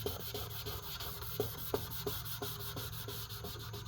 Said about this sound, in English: Using sandpaper. What we're trying to do is take off the oxidation.